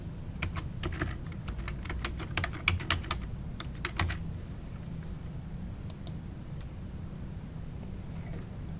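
Typing on a computer keyboard: quick, quiet runs of keystrokes in irregular bursts that thin out and stop toward the end, over faint background hum.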